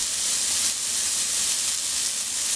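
Steady, dense sizzling hiss of smash burger patties frying in a hot pan, continuous and fairly loud, with no voices, cutting off abruptly at the end.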